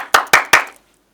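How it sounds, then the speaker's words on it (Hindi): Three sharp, loud hand claps, evenly spaced and close by, then silence, on the set of a Gen Z versus millennial debate show. "तालियां"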